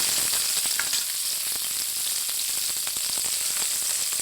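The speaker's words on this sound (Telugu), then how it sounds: "శుభ్రంగా పల్లీలు పోపు గింజలు ఇలా ఎర్రగా ఫ్రై అయిన తర్వాత" Dense, steady sizzling of peanuts and seasoning seeds frying red in hot oil, loud and close with constant crackling throughout.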